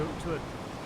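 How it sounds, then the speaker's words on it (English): Ocean waves break against a rocky coastal platform at Maitland Bay, giving a steady, soft wash of surf close by that stays continuous without distinct crashes. "Hopefully you can hear the soothing and relaxing sounds of the waves in the background."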